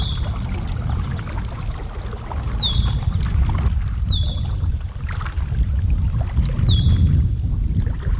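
Paddle strokes push a small fishing boat across a pond, with a steady rush and splash of water along the hull and occasional bird chirps above.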